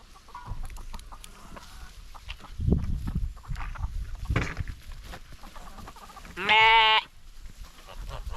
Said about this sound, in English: Oh, that's a hungry sheep.